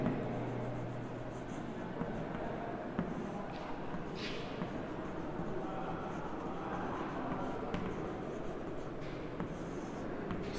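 Continuous scratchy scraping of chalk or marker writing on a classroom board during a chemistry lesson, steady and fairly faint, with occasional taps and a short squeak.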